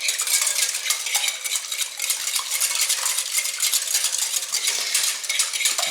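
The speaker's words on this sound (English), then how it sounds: "First break up the yolks and then just violently beat them." Eggs are whisked hard in a bowl for an almond pie filling, a steady, fast metallic clatter of whisk against bowl repeating without pause, close and fairly loud.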